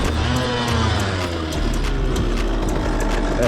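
A vehicle engine revs hard in first gear, a loud, close, rising drone that climbs steadily in pitch, with mechanical whine and rattle on top and no talking.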